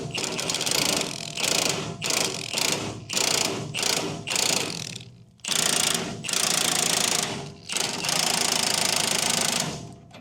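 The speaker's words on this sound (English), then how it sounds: "This is a 24mm socket on my impact." An impact wrench with a 24mm socket works on a wheel of a wrecked 2021 Hyundai Venue, loud close rattling hammering in repeated bursts separated by short pauses, ending in longer sustained runs.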